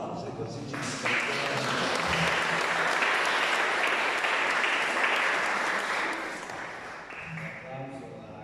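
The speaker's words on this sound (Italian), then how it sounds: "Facciamo un applauso, così ci aspettiamo." A lecture audience at an Italian talk on Saint Catherine applauds in a loud, sustained burst that holds steady for several seconds, then thins and fades toward the end.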